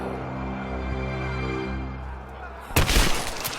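A single sharp gunshot bursts out near the end of a tense stretch of droning background score in the video game Rise of the Tomb Raider, close and loud.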